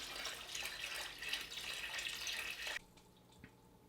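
Water poured steadily into a home aquarium, a continuous splashing hiss that stops abruptly partway through, followed by faint drips and a small thud.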